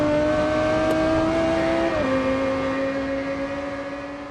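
A higher-pitched racing car engine from a short film holds a steady, loud whine, dropping slightly in pitch halfway through and then droning on alone as it slowly fades.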